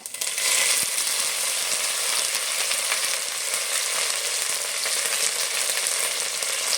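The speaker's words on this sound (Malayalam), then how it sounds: "നമുക്കിനി ഇതിനകത്തിലേക്ക് കടുക് ഇട്ട് കൊടുക്കാം." Mustard seeds and curry leaves crackle in hot oil for lime pickle, a loud, dense, steady sizzle with fine spitting pops running close throughout.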